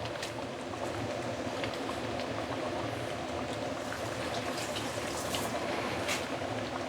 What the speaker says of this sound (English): Then now I'm going to put in the cabbage.